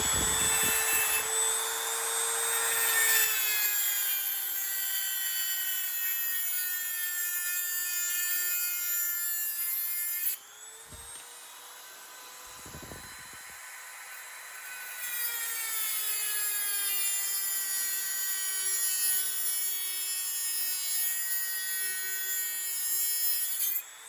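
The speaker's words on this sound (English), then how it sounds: "now I'm going to use my Dremel to cut off the excess end of each of these little" Dremel rotary tool grinding through the excess ends of metal spring hooks on a Troy-Bilt TB110 push mower, a loud continuous high whine that drops briefly mid-cut, then resumes steadily, with no talking.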